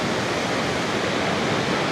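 Iguazu Falls in Brazil, a huge waterfall, pours in a dense, steady roar of rushing water, loud and unbroken throughout.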